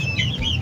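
A laying hen gives a short, close, warbling cluck, a brief rising and falling call heard alone at moderate loudness.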